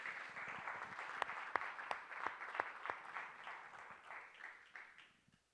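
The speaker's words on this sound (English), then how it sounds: "Let's give Perry a round of applause" A room of attendees at a Board of Education meeting applauds with a lively patter of claps and a few sharper, louder hands, then the sound tapers away to quiet at the end.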